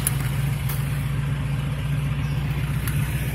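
A 1988 Chevrolet Caprice Classic with headers and dual exhaust idles steadily at close range, a low, even rumble with a regular pulsing beat and no talk over it.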